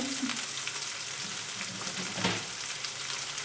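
Cumin and mustard seeds sizzling in hot oil for a home-cooked palya, a constant hiss and crackle heard close with faint spattering, no talk over it.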